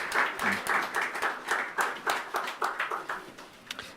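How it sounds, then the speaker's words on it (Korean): A church congregation of elderly members applauds warmly during a Sunday worship service, with steady rhythmic hand clapping in a room, loud and continuous throughout with no talk over it. "우리 어르신들의 큰 박수 다시 한번 부탁드립니다."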